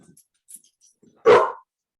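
A dog sounds off with one sharp, fairly loud bark after a near-silent pause, heard indoors during a relaxed family gathering, with no talk over it.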